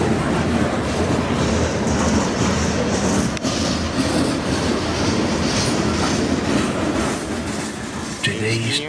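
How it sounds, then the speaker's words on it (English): Norfolk Southern train 321 rolls past with an EMD SD70ACE distributed power unit in the consist, a loud, continuous rumble of railcars with steady clickety-clack wheel noise close by for the whole stretch. "Today's distributed power unit, or DPU, on train 321 is Norfolk Southern EMD SD70 ACE number"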